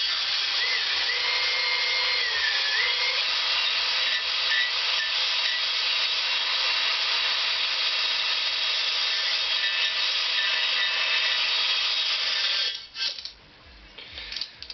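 Grinding stone smoothing a metal part from a Honda CX500 engine, a steady, close abrasive whir that holds unbroken for about twelve seconds and then stops, leaving a few short scrapes.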